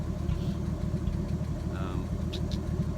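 A 1958 Chevy Delray sedan's 235 cubic-inch straight-six engine runs at a steady, low, throbbing idle, up close and continuous, with some talking over it.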